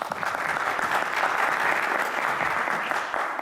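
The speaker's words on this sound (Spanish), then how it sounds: "Entonces, pues recibamos con un aplauso." Sustained applause from an audience welcoming a speaker at a lecture on cryogenics and low temperatures, moderately loud and steady, with no voices over it.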